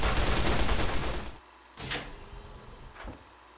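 Gunfire in Fallout: New Vegas, a dense burst of shots up front giving way to a couple of separate sharp reports spaced apart, loud and with no talking over them.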